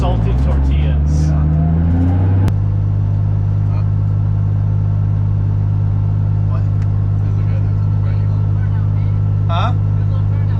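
A Nissan S14 with a 1JZ engine revs and drops to a loud, rumbling idle that misfires and runs rough, with faint voices in the background.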